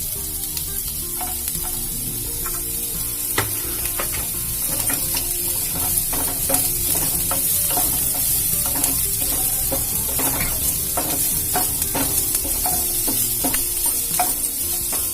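Chopped onions and carrots frying in a pan for Maggi noodles, a dense, steady close sizzle with repeated scraping stirs that grow busier toward the end.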